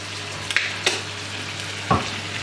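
Tomato and barbecue sauce stirred in a pan, a continuous sizzle broken by a few sharp spoon scrapes and clicks, the last one the loudest, with no voices.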